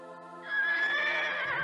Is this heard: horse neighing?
yes